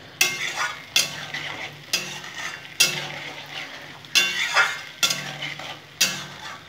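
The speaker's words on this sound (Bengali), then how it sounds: "এখন খুব সুন্দর করে কষে নেবো।" Spice masala sautéed in a pan, stirred in a steady run of about seven scraping strokes, each with a sizzle that swells and fades, close and loud with no talking.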